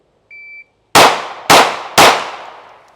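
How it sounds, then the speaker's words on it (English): Three sharp Glock pistol shots ring out, fired one-handed at close range, each crack decaying into a short echo; a brief electronic start beep sounds just before. "you're gonna start the gun in your non-dominant hand to fire 3 rounds in 3 seconds"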